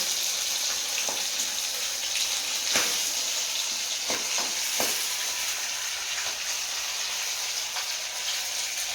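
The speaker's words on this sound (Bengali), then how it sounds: "নুন হলুদ আর লঙ্কার গুঁড়ো ধনের গুঁড়ো মাখিয়ে আর ভাজা করছি" Fish coated in salt, turmeric, chilli and coriander powder frying in oil, making a constant hissing sizzle with a few sharper pops and spatters, close and continuous.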